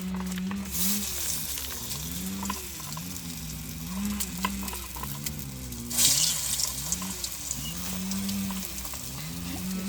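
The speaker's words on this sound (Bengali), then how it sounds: "এবার সজনে পাতার বড়াগুলো ভেজে নেবো" Drumstick leaf fritters fry in hot oil in a village kitchen, giving a steady sizzle throughout, while cattle low in repeated drawn-out calls nearby.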